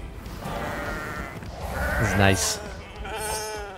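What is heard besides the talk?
sheep bleating in video game For Honor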